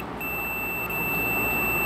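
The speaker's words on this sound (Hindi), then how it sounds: "मीटर के अंदर भी बिप की आवाज़ आ रही है" A multimeter gives a continuous high-pitched continuity beep while a double-door refrigerator defrost timer is being tested. The tone is loud, close and steady, and no one speaks.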